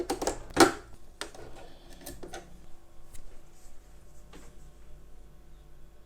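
A sewing machine stitches forward and backward over elastic lace trim, giving quiet, uneven mechanical clicking and rattling over a low steady hum, with a sharper knock near the start.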